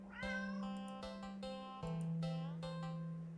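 A black cat in the video game Do Not Take This Cat Home meows repeatedly, a string of clear, close, drawn-out nyah-like calls over a faint steady hum.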